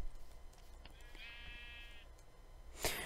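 A single sheep bleats once in a video game, a clear wavering cry lasting about a second, followed by a sharp burst of noise over a quiet low hum.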